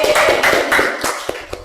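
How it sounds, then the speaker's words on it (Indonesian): Classroom applause from students after a group presentation, a short burst of crisp, fairly loud hand claps with sharp taps rising and thinning toward the end. "Beri tepuk tangan."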